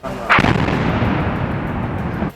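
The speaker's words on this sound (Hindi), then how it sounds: "इन हमलों से यूक्रेन के सुमे में इतने धमाके हुए कि वहां रहने वाले लोगों की जान पर बनाई" A heavy explosion from Russian bombing in a residential area of Sumy, Ukraine, bursts out suddenly and loudly. A deep, rumbling roar follows and sustains to the end, with no voices.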